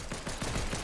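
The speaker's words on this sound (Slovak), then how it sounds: "Kto tu po mne strieľa?" Gunfire in an online video game shooter match: a rapid burst of overlapping shots, dense and continuous, heard without talk.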